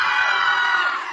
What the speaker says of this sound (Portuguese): os três tomam um susto e soltam um grito ensurdecedor